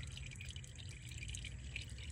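Transmission fluid draining from a vehicle's transmission pan, a faint steady trickling and dripping of liquid with a low rumble beneath, continuous and brief with no voices.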